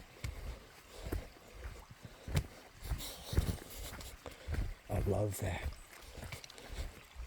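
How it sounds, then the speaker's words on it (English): A small river runs down a mountainside beside a redwood trail in Oregon, giving a steady broadband rush in the background beneath nearby talking and scattered sharp clicks and steps. "Running, hearing water going down the mountain"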